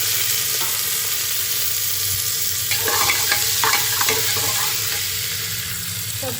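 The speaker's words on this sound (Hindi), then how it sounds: "सब्जियाँ तड़कती हुई" Vegetables frying in ghee in a pan, giving a continuous loud hissing sizzle with crackling bursts and the scrape of stirring partway through, close up and without talk.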